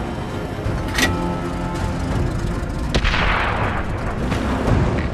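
Tank cannon shots in World of Tanks: two heavy booms ring out about two seconds apart, each followed by a rumbling, crackling decay over continuous battle noise, with no talking.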